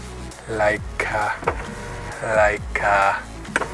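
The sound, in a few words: Toyota Vanguard power sunroof sliding open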